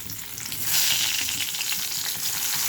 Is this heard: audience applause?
no